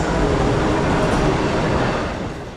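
An Amtrak Acela train, number 2252, passes on track 1 at Norwalk, a loud close continuous rush of wheels and rail noise that starts fading at the end.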